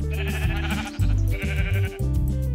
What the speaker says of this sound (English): So I made some shears and found some sheep on some land, not too far away.